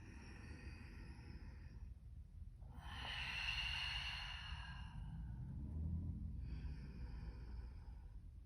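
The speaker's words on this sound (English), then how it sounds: "And take a big breath" A quiet, drawn-out inhale and a long breathy sigh of an exhale during a stability ball exercise, soft and close over a low steady room hum, with no talking.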